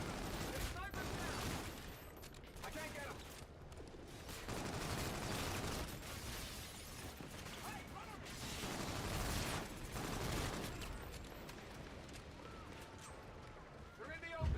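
Gunfire in a first-person shooter video game, dense bursts of shots and booms running almost continuously, with a voice talking over the action.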